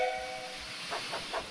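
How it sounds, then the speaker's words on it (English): A steam train's whistle sounds briefly at the start, followed by rhythmic puffing and hissing from the engine. "Aren't you glad I found my whistle?"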